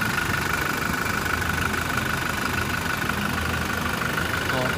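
A 2018 Toyota Innova Venturer 2.4 automatic engine idles with a steady low rumble and a faint mechanical hum, unchanging throughout, with no voices.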